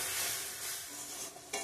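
Ground cumin, coriander and chili powder fry in oil in a pan, a soft continuous sizzle with faint stirring, quiet and close, ending on a brief sharper clink.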